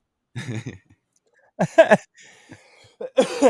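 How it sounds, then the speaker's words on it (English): Several short, harsh coughs in separate bursts, close by, with quiet gaps between them. "We're all coughing"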